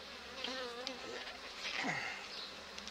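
Honeybees buzzing around an opened beehive frame packed with honey, several close wavering buzzes with pitch glides as individual bees fly past, fairly faint against a soft background.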